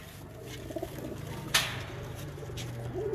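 An Imam Deen pigeon gives soft, faint coos close by over low background noise, with a brief sharp knock partway through.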